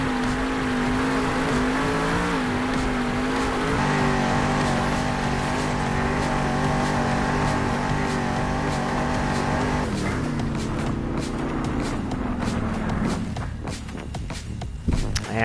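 A Monster Jam monster truck roars through its final lap in an arena in Salt Lake City, engine loud and sustained with rising and falling revs, then easing off toward the end amid crowd noise and thumps.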